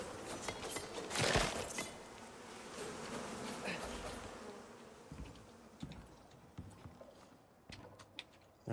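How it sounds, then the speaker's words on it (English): Bees buzz inside a cave in the video game Icarus, a close droning hum that swells loudly early on, then fades amid scattered clicks and footstep-like taps. "2 worker bees, no queen bees, but that is okay"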